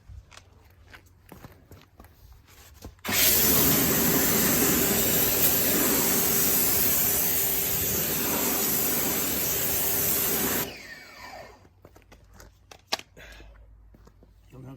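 Water spray rinsing an alloy wheel on a BMW M4 Competition, a loud steady hiss that starts abruptly, runs for about seven seconds and then cuts off, with quieter handling noises before and after.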